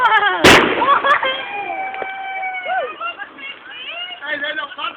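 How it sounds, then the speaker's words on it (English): Chinese fireworks go off with one sharp, loud bang near the start, followed by whistling and crackling trails fading over several seconds while people talk. "they're not bad for Chinese fireworks"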